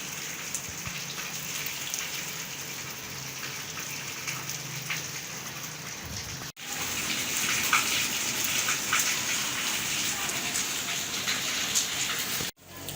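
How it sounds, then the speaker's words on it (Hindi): Heavy rain pours down on a street where water is pooling, a dense, steady hiss and patter heard up close and loud, unbroken apart from two brief cuts. "बहुत ही तेज़ बारिश है।"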